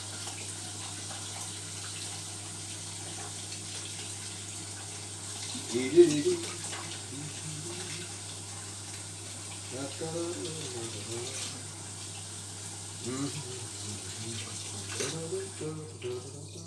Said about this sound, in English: Put some water in here. Just hand warm, actually.